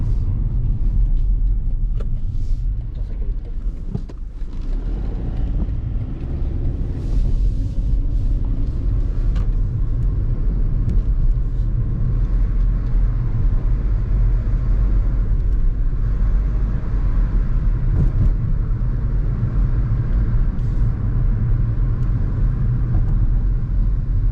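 A 2021 BMW 1 Series M Performance car drives on a road, giving a steady low engine and tyre rumble that stays loud and continuous throughout, with no talking.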